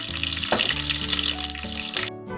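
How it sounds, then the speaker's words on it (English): Pork osso buco meat browns in a hot pan with a loud, continuous sizzle and crackle of frying, close and steady throughout, with no voices. "so this is browning up quite nicely"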